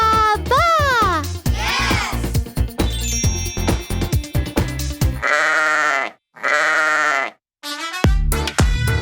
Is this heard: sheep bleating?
yes